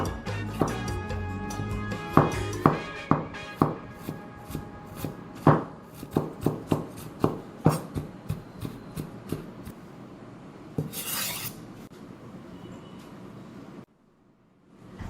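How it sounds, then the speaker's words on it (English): Ginger minced with a knife on a board: a quick series of crisp, close chopping knocks, then a short rustling scrape before it falls quiet. "I'm going to mince this ginger."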